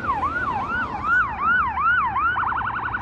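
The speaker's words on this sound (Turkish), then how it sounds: "Ha, ambulans geliyor." An ambulance siren on a road wails in loud, close, rising-and-falling sweeps, then switches to a rapid yelp; traffic rumble sits underneath.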